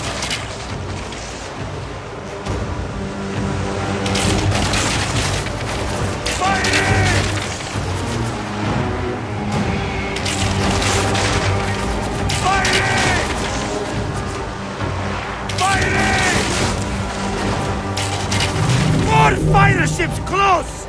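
Booming cannon fire and crashing explosions in a naval battle in the video game Assassin's Creed Origins, repeated heavy blasts under a dense din of shouting voices and music.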